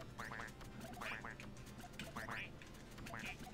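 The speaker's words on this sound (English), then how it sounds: "Does the notebook quack?" A duck quack sound effect from a notebook item in a video game, repeated in quick bursts over faint game noise while several people talk and laugh underneath.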